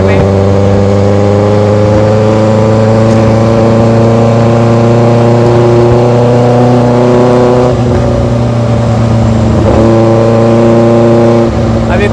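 A 2023 Benelli TnT 600GT motorcycle fitted with an Ixil 55 exhaust holds a loud, steady engine drone while riding, with a smooth multi-toned hum and slight pitch shifts under wind noise.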